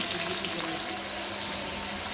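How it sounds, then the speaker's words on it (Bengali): Chopped onions frying in a pot as the base for beef curry give a steady, close sizzle and crackle of oil, continuous and without speech. "এর জন্য দিয়ে দিলাম পেঁয়াজ কুচি"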